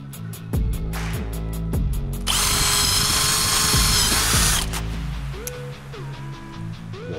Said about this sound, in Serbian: Idemo sada sa burgijama za drvo, druga brzina kad se buši drvo